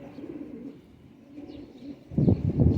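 Golden Teddy pigeons, a breeder and high-flying type, coo in a loft, with soft steady murmuring and a louder burst of close cooing near the end.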